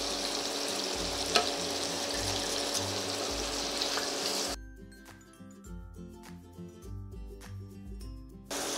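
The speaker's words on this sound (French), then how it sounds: "Je vais faire revenir mon bacon en cubes. Ainsi que les échalotes." Diced bacon and shallots fry in a pan with a soft, steady sizzle. Partway through, the sizzle drops away and gentle background music continues alone.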